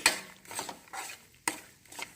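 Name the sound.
stirring besan (gram flour) halwa in a pan on low heat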